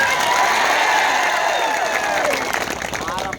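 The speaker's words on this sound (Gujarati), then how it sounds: "સૌ માટે એકવાર જોરદાર આપણે તાળીઓ પાડી લઈએ" A rural crowd at a political rally in Gujarat applauds loudly, with dense, sustained clapping and cheering that slowly thins toward the end.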